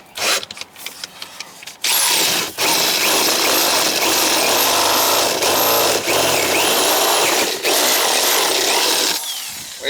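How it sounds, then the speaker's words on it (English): A power drill runs loud and close, boring out the hole for an outside sill faucet, with a few short starts and then a long continuous whining drive through the material. "So just drill it out."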